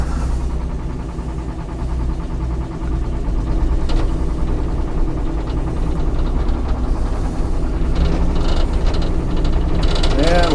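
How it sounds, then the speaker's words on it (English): An old bus motor drives a sawmill, running as a loud, steady, rough drone with a low rumble and some knocking vibration throughout, close by. "Got the old bus motor running here."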